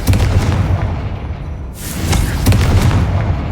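Confringo fire spell exploding in the video game Hogwarts Legacy, heavy booming blasts with rumbling low end, a surge after a short dip, loud and close.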